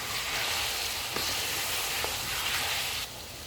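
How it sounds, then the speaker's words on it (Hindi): Ginger-garlic paste and tomatoes fry for a Peshawari chicken karahi with a dense, even sizzle. A couple of faint stir knocks sound through it before the hiss drops noticeably near the end. "इसमें अदरक और लहसुन का पेस्ट डालेंगे। इसको हम 2 मिनट तक भूनेंगे।"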